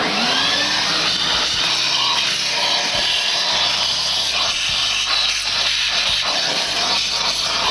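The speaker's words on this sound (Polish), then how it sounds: "Możemy wziąć odkurzacz i odkurzyć." A vacuum cleaner runs loud and steady with a constant hissing roar as it cleans the filter housing of a Fiat Croma II, its pitch shifting slightly as the nozzle moves.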